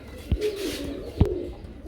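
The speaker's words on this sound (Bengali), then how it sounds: "আমরা এখানে দেখতে পাচ্ছি আরেক জোড়া কবুতর রয়েছে" Pigeons coo softly in a pair of low, throaty bursts close by, with faint ambient noise between them; the birds are large Lahori pigeons kept for sale.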